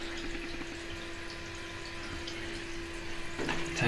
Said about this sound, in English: Tank filling up right there.